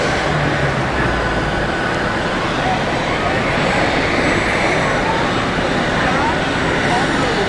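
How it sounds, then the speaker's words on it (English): A jet airliner, an Airbus A220 bound for Budapest, rolls down the runway for takeoff at Zurich Airport, heard from the observation deck as a steady, distant broadband roar that holds evenly throughout. "which is the Airbus A220 to Budapest. That's rolling at the moment."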